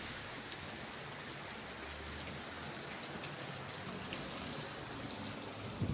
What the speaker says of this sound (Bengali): এই যে দেখো প্রচুর বৃষ্টি হচ্ছে।